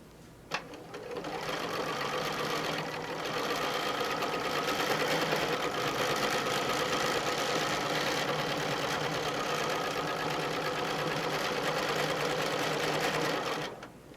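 A domestic sewing machine runs continuously for ruler-work quilting, a brief click at the start and then a steady, even mechanical whir at close range that stops abruptly at the end.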